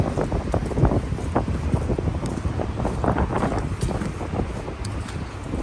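Strong wind buffets the microphone in a steady, loud roar with gusty rumbling and no voices.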